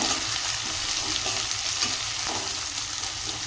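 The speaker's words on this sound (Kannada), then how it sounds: "ನಾನೀಗ 1 ಬಟ್ಲಷ್ಟು ಉಳ್ಳಾಗಡ್ಡೆ ಹಾಕ್ತೀನಿ" About three large chopped onions sizzle steadily in a pan for cauliflower curry, a constant loud frying hiss with faint stirring scrapes and no talking.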